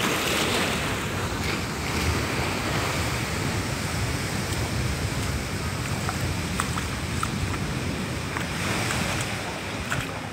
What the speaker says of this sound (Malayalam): തിര അടിച്ചു കൊടുക്കുന്നത്.